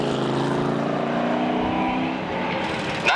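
Street stock race cars run time trials at a stock car track in 1988, giving a loud, steady engine drone with layered harmonics that briefly rises in pitch near the end as a car accelerates past.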